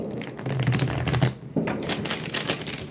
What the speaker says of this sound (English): It's a real good shuffle, though.